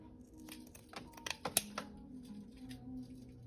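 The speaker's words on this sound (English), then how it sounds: "I'm going to use my good fiber scissors. They're nice and sharp." Sharp fiber scissors cut woven fabric off a floor loom, giving a few faint, quick snips and crisp clicks close by, clustered in the middle of an otherwise quiet stretch.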